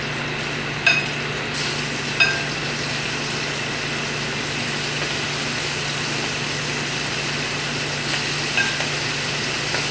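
Shrimp seasoned with Old Bay cooking in a pan with bacon fat, a steady low sizzle and hiss running throughout with a couple of faint clinks, no voices.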